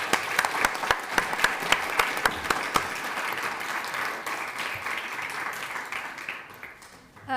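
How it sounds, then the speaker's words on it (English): Conference audience applause for panelists after a diplomacy and AI panel, opening with sharp individual claps up close and settling into a broad, steady round that fades toward the end. "So a big round of applause to our panelists."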